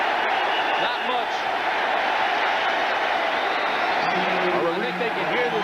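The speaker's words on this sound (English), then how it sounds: "I think they can hear this crowd across the Hudson to Manhattan." Dense roar of a football stadium crowd at a Lions vs. Giants game, a loud continuous wash of cheering filling the whole stretch, with commentary voices talking over it.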